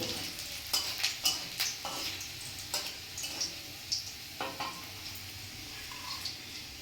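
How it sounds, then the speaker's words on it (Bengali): Chopped garlic frying in a hot kadai, a steady close sizzle with a run of sharp clicks and scrapes as it is stirred, no voices. "এখানে কড়াতে রসুন দিয়ে দিয়েছে রসুন ভুজি ছোট ছোট করে"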